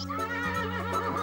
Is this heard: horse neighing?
yes